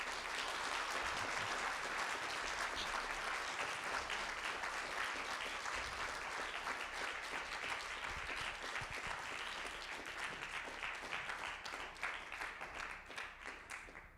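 Sustained applause from a lecture audience at an inaugural professorial lecture, dense steady clapping filling the room at full strength throughout, easing slightly toward the end, with no voices over it.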